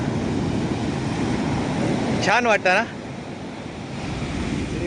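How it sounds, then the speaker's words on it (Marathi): Sea waves crash onto the beach at Devgad in a continuous, roaring wash of surf and wind noise, with a person briefly speaking partway through. "कसली लाट इली बघा"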